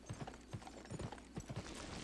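Horse hooves clip-clopping in the Western video game Gun, a steady trotting beat of quiet, close hoof strikes over a low background hum.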